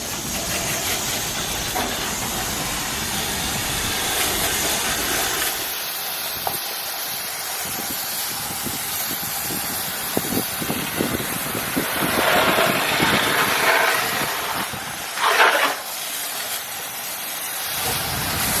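Water sprays with a continuous broad hiss, rinsing an air-conditioning coil, with the rushing sound swelling and shifting as the spray moves and brief louder bursts near the end.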